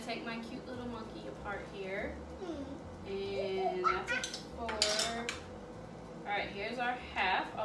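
A whisk clinks and scrapes in a bowl while powdered sugar and vanilla are stirred into a doughnut glaze, the rattling metal taps close by under an adult and someone talking.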